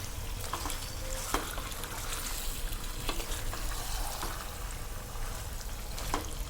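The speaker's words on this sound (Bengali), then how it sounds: "দিয়ে আমি ভালো করে মিক্সড করে নেব, যাতে আদা পেঁয়াজ ভাজাটা এর মধ্যে মিক্সড হয়ে যায়" Ginger and onion sizzle steadily in a pan while a spoon stirs them, with intermittent scraping clicks over a constant crackling fry, close and alone.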